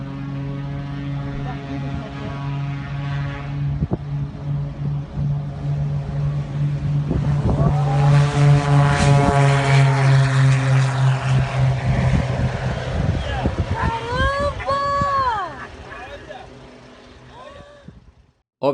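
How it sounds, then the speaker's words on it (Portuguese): A twin-engine propeller airplane makes a short takeoff, its engines droning as a steady hum that builds in power to a loud roar, then fades. Voices and whistle-like tones come in near the end. "Esse vídeo mostra um avião bimotor realizando uma decolagem curta."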